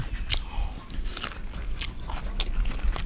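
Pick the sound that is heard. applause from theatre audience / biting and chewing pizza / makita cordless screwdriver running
biting and chewing pizza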